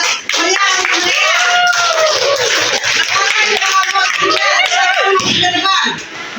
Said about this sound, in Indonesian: Mari kita kasih aplaus yang meriah untuk mereka.